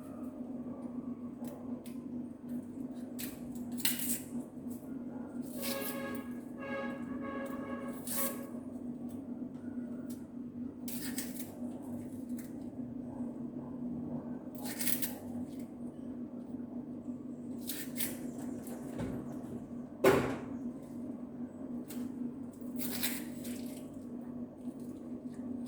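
Scallion, thyme, pepper and onion seasoning being cut up, heard as scattered soft, wet cutting and squishing strokes in irregular bursts over a low, constant background hum.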